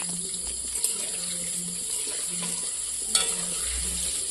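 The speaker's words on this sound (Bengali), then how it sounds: "এ দেখুন মা মাংস ভাজা বানাচ্ছে" Meat pieces are fried in a pan in a home kitchen, producing a steady low sizzle with occasional scraping stirs and one sharper knock near the end, fairly quiet and with no speech.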